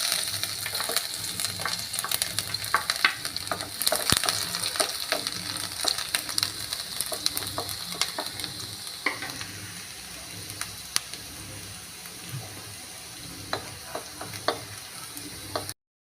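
Finely chopped garlic fries in hot oil, with a steady crackling sizzle broken by scraping stir strokes and sharp clicks that thin out toward the end.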